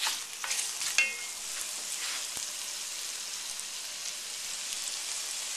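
Celery cooking down in a soup pot for cream of celery soup gives a continuous soft sizzle, with a few stirring scrapes near the start and no voices.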